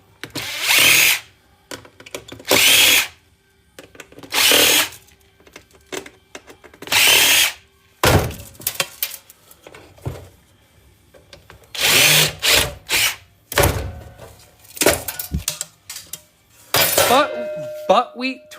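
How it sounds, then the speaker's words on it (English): A power drill driving screws out of an old desktop PC tower, heard as repeated loud bursts of whirring, each a second or so long, separated by short pauses, with small metallic rattles and clinks in between. "after I take these screws out of here"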